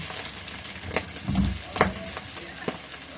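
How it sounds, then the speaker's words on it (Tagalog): Hot oil spattering in a pan while tofu and ground meat sauté for ginisang ampalaya, a continuous close sizzle broken by a few sharp pops and crackles. "Tumatalabsik na."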